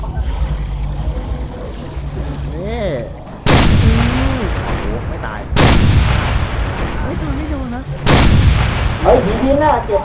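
Heavy gunfire and booming explosions from the video game Dead Island Riptide, three loud blasts hitting in sequence over a constant rumble, with bursts of rapid shots.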